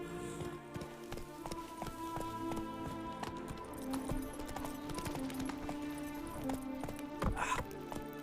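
Hooves of Roach, the horse in The Witcher 3, clip-clopping in a steady rhythm through a town, at moderate level under background game music with a brief louder burst near the end.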